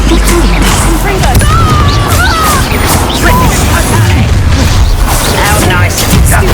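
Confringo fire-blast spell explosions during Hogwarts Legacy combat, a loud, dense run of crashing blasts and impacts that never lets up, with voices talking over the din.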